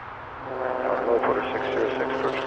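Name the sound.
Airbus A319 airliner arriving from Regina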